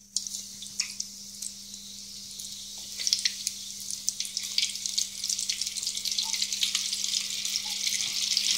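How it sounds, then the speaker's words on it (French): Squid rings coated in flour and egg deep fry in a fryer, a bright hiss of sizzling with scattered crackles that builds steadily louder, close by and with no talking. "On les met dans la friteuse."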